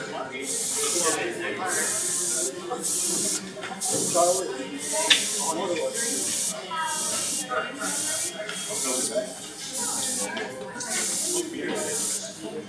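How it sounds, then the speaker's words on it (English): Spray paint hisses out in steady bursts, each lasting about a second with short gaps, close and loud, repeated through the stretch at an arts workshop, with faint talk underneath. "Spray like this."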